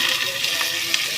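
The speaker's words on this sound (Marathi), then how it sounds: "तेलामध्ये चांगलं परतून घ्यायचं" Finely chopped cluster beans frying in hot oil with a pinch of asafoetida, a steady close sizzle with soft crackles and faint stirring taps, no voices.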